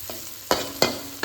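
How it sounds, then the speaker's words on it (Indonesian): Watercress stir-fry with tofu and meatballs stirred in a hot pan, with a soft sizzle under two sharp spatula scrapes close by, no voices. "sekarang kita campur dengan tahu dan baksonya. Oke, kita aduk."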